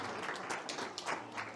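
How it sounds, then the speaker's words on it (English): Brief burst of audience applause at a celebration marking the birth anniversaries of Imam Hussain, Hazrat Abbas and Imam Sajjad, moderately quiet and uneven, with scattered claps rising and falling over a short stretch. "And give him a round of applause."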